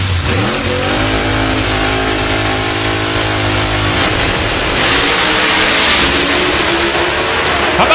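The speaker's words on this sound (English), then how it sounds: "How about Belushi carrying the front end out there about 150 feet or so?" A Pro Modified drag racing car accelerates hard down the strip during a qualifying round, its engine a loud, sustained, close roar climbing in pitch and filling the whole stretch without any voices.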